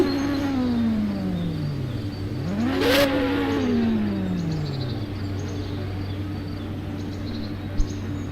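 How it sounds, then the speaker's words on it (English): Go-kart engines at a Grand Prix event rev up and down in clear sweeping pitch rises and falls, one kart climbing sharply around the middle, with a steady idling drone underneath and a brief click near the end. "We decided to rev their engines."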